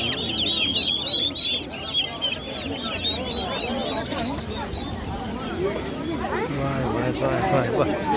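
Chickens and roosters at a bustling poultry market, with constant clucking and squawking from many birds up close, under lively crowd chatter and people bargaining.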